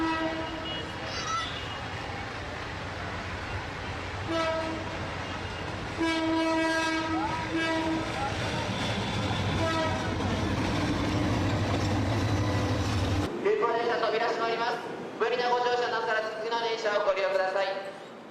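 A crowded train ferrying pilgrims to a huge gathering sounds its horn in repeated long, loud blasts over a steady rumble of the moving cars, with voices of people on board heard between the blasts.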